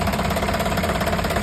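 An Isuzu 4HF1 diesel truck engine idles steadily up close, with a low throbbing drone and a faint knocking rhythm, running on without a break.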